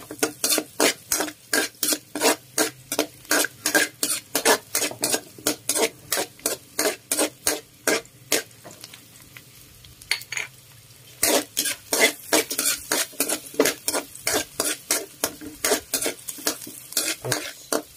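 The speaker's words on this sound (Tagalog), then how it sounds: "Lagyan na natin yung ating bawang habang natutunaw yung butter" Garlic sautéing in melting butter in a pan while a Filipino pork-fat dish is cooked, heard as steady sizzling overlaid by fast, regular scraping and stirring strokes of a utensil against the pan, close up with no talk.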